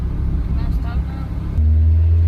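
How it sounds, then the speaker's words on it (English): A convertible with its top down cruises on a test drive in chilly weather, wind and road rumble at first, then a steadier, louder low engine hum takes over. "We took it for a little test drive."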